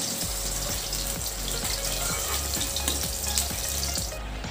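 Katla fish frying in mustard oil, a dense steady sizzle close up with a low rhythmic bubbling pulse beneath, no voices.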